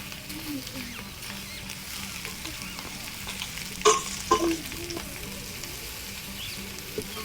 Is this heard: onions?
yes